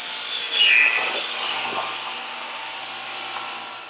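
An Atech mitre saw with a 3-horsepower motor and an oil mister cuts clamped aluminum extrusion, giving a loud high-pitched screech that fades into a fainter whir as the blade spins down, with no talking.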